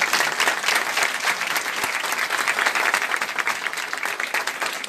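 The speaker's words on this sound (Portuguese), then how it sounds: "Mais uma salva de palmas para eles." Audience at an awards ceremony in São Paulo applauds steadily, a dense, loud wash of clapping that holds for several seconds without any speech.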